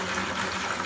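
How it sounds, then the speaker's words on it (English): Homebrewed beer wort splashes and gushes into a fermenter, poured to work in oxygen, a short, steady, bubbly stream of liquid close by. "Pour it into here. So we want to get as much oxygen in here as we can."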